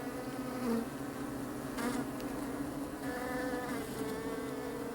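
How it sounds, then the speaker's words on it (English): A huge swarm of bees around a thatched cottage in an English garden, a dense, continuous buzzing drone that fills the air at steady loudness with no voices. "we were suddenly interrupted by a huge swarm of bees"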